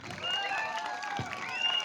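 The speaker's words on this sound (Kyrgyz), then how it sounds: "Бир катыраак кол чаап коюңуздар меймандар" Audience applause and crowd noise at the opening ceremony of a no-rules men's fighting tournament in Jany Alay village, Alay district; steady, moderately loud clapping that holds for the full stretch, with a faint voice underneath.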